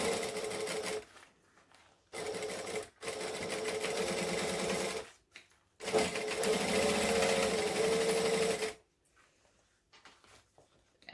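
Sewing machine stitching a zip into a zip-around wallet, running in three loud sustained bursts with brief pauses between, whirring and buzzing steadily, then stopping into near silence.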